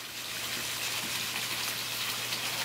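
Steady broadband rush of a backyard waterfall, continuous and even like gushing water, moderately loud with no pauses and no talk over it.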